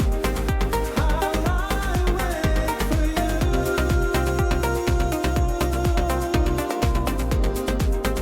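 A melodic house track with vocals plays loud and steady, driven by a punchy four-on-the-floor kick and layered synths, with no talking over it.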